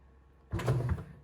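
Bread machine doing its knockdown after the first rise: after a quiet hum, a short burst of motorized churning and whirring kicks in close by, lasting under a second at moderate volume.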